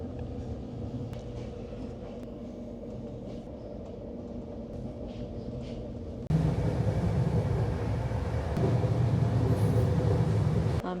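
A train rolls out of Messina station in Sicily with a low, steady interior rumble, then a sudden louder, rougher rush of rolling noise as the carriage picks up speed.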